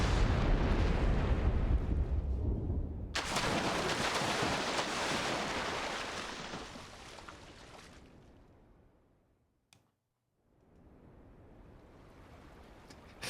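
A nuke goes off in Trails through Daybreak with a deep rumble, then a sudden loud blast that roars and slowly fades into near silence before a low wash of sound returns.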